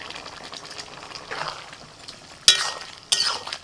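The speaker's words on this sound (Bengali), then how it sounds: "ভাজা চিংড়ি মাছ দিয়ে দিচ্ছি।" Fried prawns tipped into a pan of simmering cucumber curry, with soft sizzling and two sharp clinks of a utensil against the pan, close and without talk.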